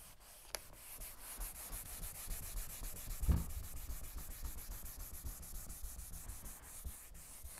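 Sandpaper rubbed back and forth over a surface in a garage, a steady scratchy rasp with a sharp knock partway through, continuing close and alone.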